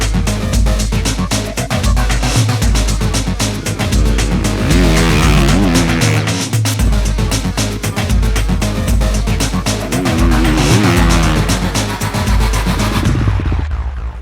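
A 350cc motocross motorcycle's engine roars loudly and close through a corner, revving continuously with rising and falling pitch before cutting off abruptly at the end.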